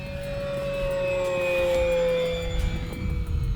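An E-Flite RV-7 scale RC plane with an electric motor on a 4S battery makes a steady, loud, high-pitched whine at full throttle, pitch sliding gradually as it passes by, with wind rumble underneath.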